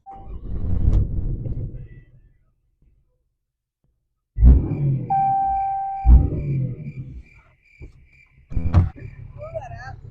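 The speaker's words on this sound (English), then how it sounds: "Stand behind the exhaust, and I'm gonna give it a nice little start." Ram Cummins diesel truck engine, modified and not stock, firing up with loud, bursting exhaust rumbles in separate blasts, separated by pauses and a sustained tone in between.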